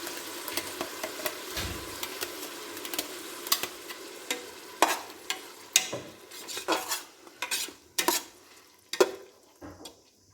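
Ground masala frying in a pan for mushroom biryani: a steady sizzle with repeated scraping and clinking strokes of a stirring spoon against the metal, close and fairly quiet, with no voices.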